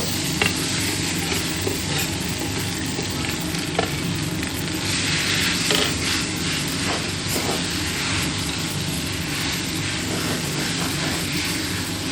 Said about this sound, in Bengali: এখন আমি গ্রেট করে রাখা আলুটা দিয়ে দিব